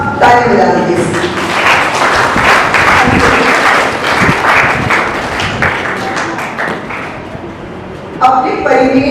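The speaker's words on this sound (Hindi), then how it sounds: "अब सब ताली बजा दीजिए।" Applause from an audience in a hall during a talk on morality, loud, dense clapping that carries on for about eight seconds before a speaking voice returns at the end.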